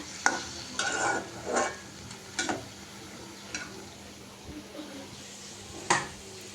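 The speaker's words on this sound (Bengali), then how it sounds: "আলুর মাংসটা এখন জালটা কমিয়ে ভেজে নিচ্ছে" Meat and potato curry fries gently in a pan over a low flame, a quiet sizzle marked by a few scattered scrapes and clinks of a spoon against the pan.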